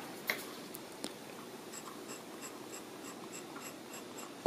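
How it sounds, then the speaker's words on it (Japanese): A glass pen scratches across paper in a quiet room, a soft steady scraping with a few light taps as the nib touches down, close and alone. "ひょっとしてガラスペンってペンを寝かせる方が書きやすいような気がします。"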